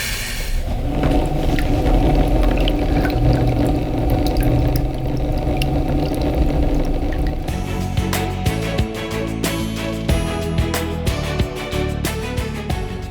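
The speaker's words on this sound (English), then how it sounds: "you can proceed as usual and start filling your spa with water" Water pours into a spa tub with a steady rushing flow and low rumble, then shifts into a busier, splashier stream with tonal pump-like hum partway through.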